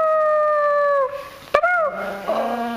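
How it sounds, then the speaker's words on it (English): A dog lets out a long, tonal howl close by that breaks off into a short, wavering, gurgly yelp. "His voice, his howl sounds like he's gurgling."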